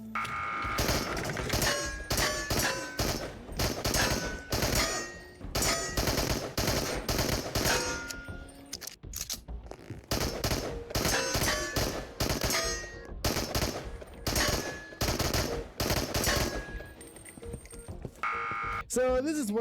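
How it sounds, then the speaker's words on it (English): Sustained full-auto bursts from a gun in the game Into The Radius, loud and dense with metallic clanks and pings between them, repeating in long stretches with brief pauses. "I'm actually going to use full auto on this run."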